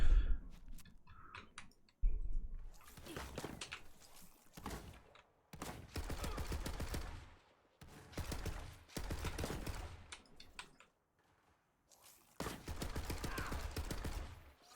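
Machine gun fire in the game Borderlands 3, delivered in several long rapid bursts of clattering shots separated by brief pauses, fairly close and crisp, with a faint voice briefly audible.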